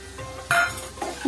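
Chopped onion hits a frying pan of masala okra with a soft sizzle, while a spoon scrapes and clinks as it stirs, in a brief close-up burst.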